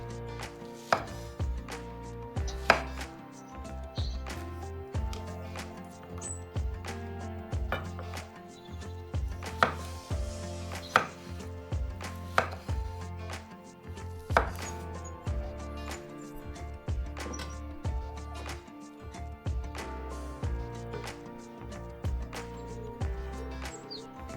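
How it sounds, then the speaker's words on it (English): A knife cuts a ripe peach into small pieces on a board, giving repeated crisp, close chopping taps in an uneven steady rhythm, with soft bird chirps faintly in the background. "Now slice a ripe peach into small pieces and add it in."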